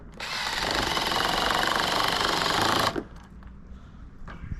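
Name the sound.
power drill driving screws into vinyl fence gate hinge post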